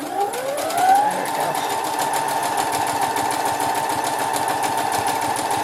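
A sewing machine runs steadily with a fast, even mechanical chatter and a rising whine as it speeds up, then holds a constant pace, close and fairly loud with no talk over it.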